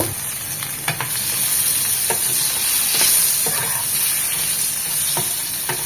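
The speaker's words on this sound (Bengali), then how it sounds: "এখানে একটা আলু, সামান্য একটু হলুদ গুঁড়ো আর 1 চিমটি লবণ দিয়ে আলুটা একটু ভেজে নেব।" A potato frying in oil with turmeric and a pinch of salt, a loud, steady, close sizzle with occasional soft stirring knocks, and no one speaking.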